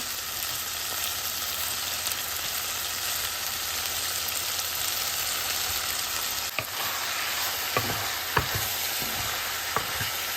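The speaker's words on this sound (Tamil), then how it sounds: "ஒரு சத எண்ணெயில் எல்லாத்தையும் சாதுவாக வதக்குவோம்" Peas, spring onion and raw mango sauté in oil with a dense, steady hiss of frying that runs throughout, joined near the end by a few soft knocks and scrapes of stirring.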